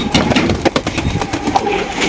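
A pair of white Capuchine pigeons at a bird sale, cooing in a loud, close, repeated murmur with soft throaty pulses and no talk over it.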